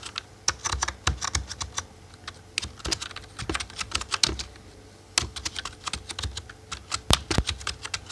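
Rapid, uneven keystrokes on a computer keyboard while entering C++ code, close and fairly loud, coming in bursts with one short pause midway and no speech.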